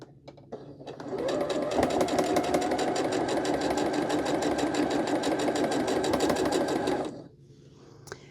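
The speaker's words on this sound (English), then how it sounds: "And now I'm sewing these 2 together." A sewing machine stitches quilt block pieces together in one steady, rapid run of close, loud needle chatter lasting several seconds before stopping abruptly, with faint handling sounds around it.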